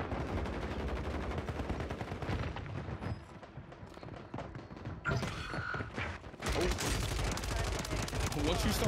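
Automatic fire from a 100-round magazine in the video game Warzone, with rapid bursts of loud close shots, brief lulls, and heavy renewed fire, while voices talk underneath.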